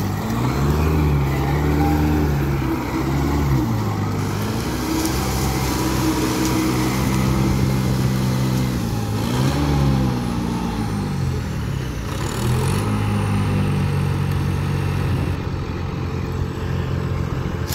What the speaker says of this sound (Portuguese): Carregadeira João Dia carregando o caminhão Volvo 480